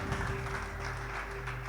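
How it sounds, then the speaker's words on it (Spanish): A church congregation gives a short, continuous round of applause. Many hands clap together in a steady, moderately loud wash, with a low hum running under it. "¿Cuánto le da un aplauso grande a nuestro Dios?"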